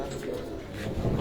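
Pigeons coo in soft, low, throaty bursts close by, short and muffled against a little background noise.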